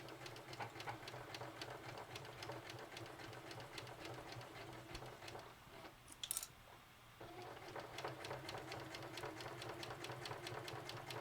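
A sewing machine stitches a Cricut tote bag in a fast, steady mechanical rattle. It runs close and continuous, briefly pauses with a light click near the middle, then resumes.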